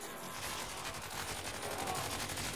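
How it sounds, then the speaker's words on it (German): Covering gunfire from AI companions in the first-person shooter Crysis 2, steady rattling automatic bursts layered over a dense game soundscape, fairly distant and continuous throughout. "Wir haben jetzt hier zwei Begleiter, die uns ein bisschen Feuerschutz geben."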